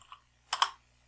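A few quick keystrokes on a computer keyboard while a program is written, a soft tap and then a close double click, with nothing else around them.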